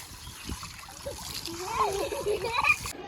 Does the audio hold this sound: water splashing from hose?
yes